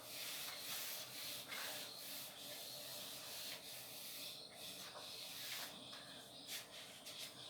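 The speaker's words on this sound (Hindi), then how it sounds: "Will rub this." Board being rubbed clean with an eraser during an economics lesson, a steady scrubbing hiss running in repeated strokes for several seconds with no talk over it.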